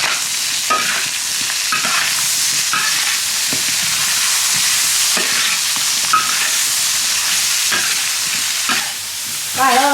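Leafy greens stir-fried in a wok alongside chicken feet, a loud continuous sizzle with repeated scraping stirs of the spatula, close up and steady throughout.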